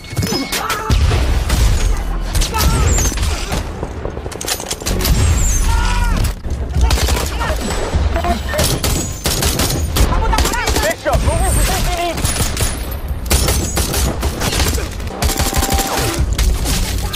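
Sustained film gunfight with dense automatic gunfire, heavy bursts and explosive booms from RPGs, loud and continuous throughout, with scattered crashes and shouted voices mixed into the chaos.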